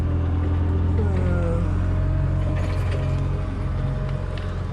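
A 2007 Mercedes ML63 AMG's sunroof motor runs in a steady mechanical whir with faint creaks, continuous and fairly close, over a constant low hum.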